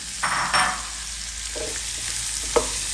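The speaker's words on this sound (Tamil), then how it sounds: "3 பிக் ஆனியன்ஸ், பாம்பே ஆனியன்ஸ் 3 போட்டு இளம் நெருப்பில் வச்சு இதை வதக்கி கொள்ளுவோம்." Chopped Bombay onions sauté over a low flame, a soft steady sizzle under a couple of brief spoon scrapes and stirs in the pan, close by and without speech.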